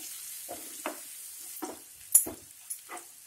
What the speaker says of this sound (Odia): ଭଲକି ତାକୁ ଟିକେ ଲାଲ ହେଲା ଯାଏ ଆମେ ପିଆଜଟାକୁ ଭାଜିବା।